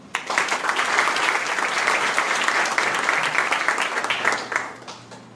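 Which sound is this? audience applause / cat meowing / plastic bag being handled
audience applause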